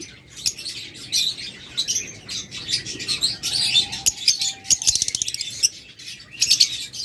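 Opaline lutino Fischer's lovebirds chirp close by in rapid, shrill bursts, with overlapping squawks and quick trills and a brief flutter in between.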